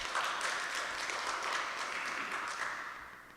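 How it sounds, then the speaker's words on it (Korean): A short burst of applause from a church congregation, dense clapping that swells and then gradually fades. "박수"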